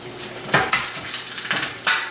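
A metal spatula clatters and scrapes against a frying pan in a few quick bursts over a low steady sizzle of huevos rancheros, close by.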